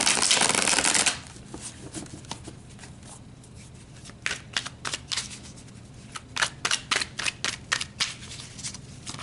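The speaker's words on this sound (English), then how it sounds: "let's pull a couple of cards and see what else they would like to bring up and talk about" Oracle cards are shuffled with a loud riffling burst up close, then a quieter stretch of soft handling followed by a run of sharp, irregular flicks and snaps as cards are pulled and tapped.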